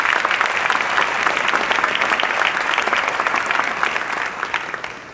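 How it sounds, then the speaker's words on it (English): Sustained audience applause at a Martin Luther King Jr. breakfast, a dense, steady wash of many hands clapping that continues throughout and tapers slightly near the end. "give them a round of applause."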